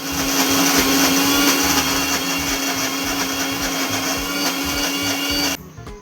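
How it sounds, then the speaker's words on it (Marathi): An electric mixer grinder whirs steadily as it blends chilled cream for homemade ghee, a loud continuous motor drone that cuts off abruptly near the end, with no voices. "ही मलाई सगळी अशी बारीक करून घेतलेली आहे मिक्सरमध्ये"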